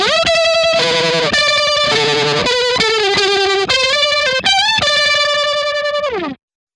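An electric guitar runs through an MXR Univibe placed before distortion, giving a loud, continuous, warbling distorted tone as a series of sustained notes and chords that stops abruptly.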